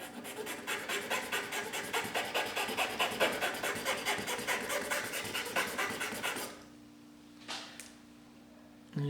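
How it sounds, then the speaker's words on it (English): An LED is rasped back and forth against a metal file in quick, even strokes for about six seconds, close and fairly quiet, then stops, leaving only a faint hum and a brief scrape. "it's filing it down quite a bit"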